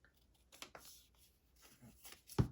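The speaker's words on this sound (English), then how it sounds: "So I'm just going to cut it down." Scissors cut down a paper tag in a few quiet snips and rustles, faint and close, ending with a sharper, louder snip.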